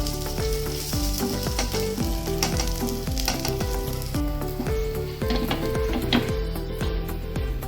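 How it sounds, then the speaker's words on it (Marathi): Nutri rolls shallow-fry in a pan with a loud, continuous sizzle and occasional stirring scrapes, close by and uninterrupted by voices. "चालू शालो फ्राय करून घ्यायचं."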